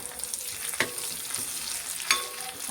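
Prawns frying in hot oil with chilli and curry leaves for pickle, a steady close sizzle marked by two sharp stirring scrapes, with no talk.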